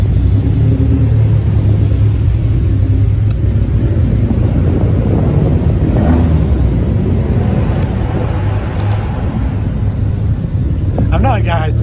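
An Abarth car passes in pouring rain as cars leave a tuner show, its engine a steady low rumble under heavy wind buffeting on the microphone, with a person talking throughout.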